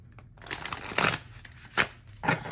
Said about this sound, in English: And they shuffle pretty well